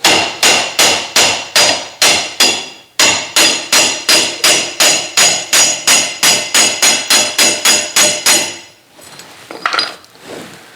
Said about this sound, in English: take your hammer and drive this down, and it will pull the nail out